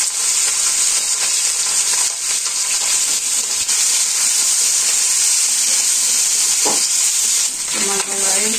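Onion sizzling as it goes into fish frying in a pan in a Bangladeshi village kitchen, a steady loud hiss with faint stirring scrapes and a brief clatter near the end, no talk.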